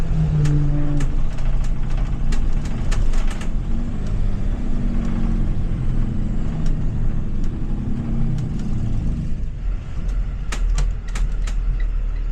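A 2025 Thomas C2 school bus engine pulls hard at full throttle, a steady loud drone with rising drivetrain roar heard from inside the cab, with faint clicks and rattles over it throughout.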